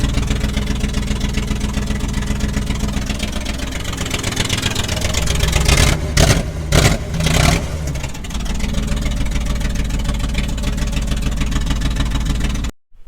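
A G-body car engine with a loud, raw straight-pipe exhaust idles roughly, revs hard in a few sharp bursts midway, then settles and cuts off abruptly.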